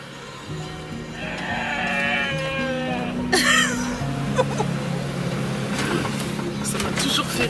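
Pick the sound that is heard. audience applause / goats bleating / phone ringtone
goats bleating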